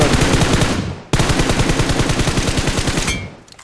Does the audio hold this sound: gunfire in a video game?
yes